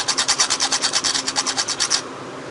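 Emery paper scrubs back and forth across a part of an LED TV under repair in fast, even strokes, about a dozen rasping passes that then stop abruptly. Close and fairly loud, with no voices.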